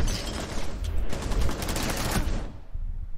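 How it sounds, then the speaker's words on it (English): Dense rapid gunfire in a Rainbow Six Siege match, loud and close, a sustained burst of shots for about two seconds that then cuts off into a few quieter low thumps. "Someone from our team shot me."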